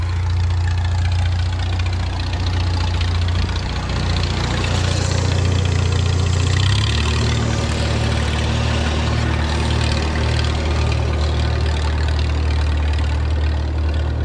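A tractor engine runs steadily with a deep low rumble and throbbing idle, rising slightly partway through, with no talking.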